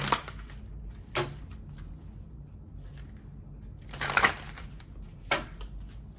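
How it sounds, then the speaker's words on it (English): Tarot cards being shuffled, several quick crisp riffling bursts spaced apart, soft and close in a quiet room. "Last shuffle right here, baby."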